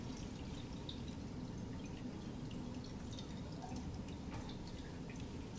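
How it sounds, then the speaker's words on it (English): Water running steadily from a tank into a respiration bottle, a quiet continuous trickling pour with faint drips, close by and alone without talk. "all I'm going to do is fill it up with some water"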